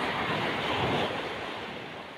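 Ocean surf washes in at a beach in Baler? no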